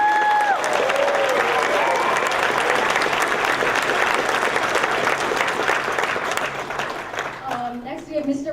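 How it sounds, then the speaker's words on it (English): An audience at a school orchestra concert gives a full, loud round of applause with crowd noise, steady throughout and easing slightly near the end as a voice begins to speak. "Huge round of applause."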